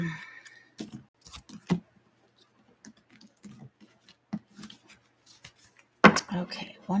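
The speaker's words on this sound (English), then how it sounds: "Okay, one more shuffle" Tarot and oracle cards being shuffled by hand, soft papery riffles and taps in scattered short bursts with quiet gaps, close by, with a sharper flurry near the end.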